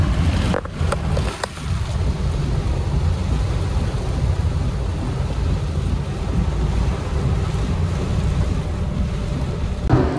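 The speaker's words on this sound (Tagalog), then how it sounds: "It's 6:15 and grabe, lakas ng ulan" Heavy rain falls at dusk in a steady, loud, dense roar that fills the whole stretch, with a few sharp knocks near the start.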